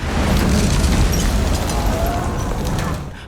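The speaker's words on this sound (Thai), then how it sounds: "พอเกิดการระเบิดขึ้นเท่านั้นพวกของเพอร์ซี่ก็รีบวิ่งหนีออกมา" A loud, rumbling explosion from the series Percy Jackson and the Olympians, with a dense roar and crackle that holds for a couple of seconds before tapering off.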